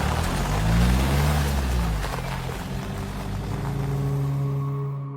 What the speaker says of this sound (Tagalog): Umanangkada ng mabilis ang kotse.